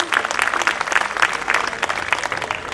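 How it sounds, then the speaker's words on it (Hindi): An audience at a Geeta Mahotsav devotional gathering claps vigorously, the dense applause pulsing with slight rhythmic surges throughout. "एक बार जोरदार तालियां बजाएं आप अपने लिए"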